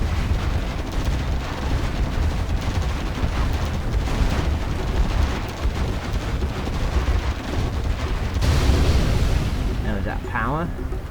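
Dragon tank being destroyed in Command & Conquer Generals Zero Hour: a sustained roar of explosions and battle rumble, loud and continuous, with a sharper burst late on and a voice talking over it.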